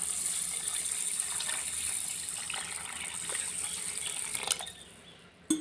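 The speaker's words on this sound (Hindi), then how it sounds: "अब हम इसको डुबोएंगे पानी।" Water pours steadily into a pot of rice for kheer, a continuous splashing gush close by that tapers and stops near the end.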